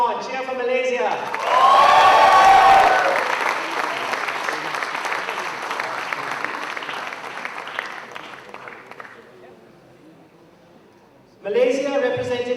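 An audience at the end of a show cheers and applauds loudly for a team representing Malaysia, a sustained burst of clapping and shouts that gradually fades away. A presenter speaks before it starts and again once it has died down.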